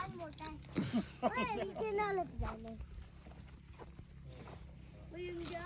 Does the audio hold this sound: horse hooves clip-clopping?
yes